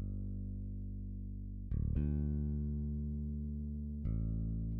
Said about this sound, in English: for the bass, let me just play it so that you can take a listen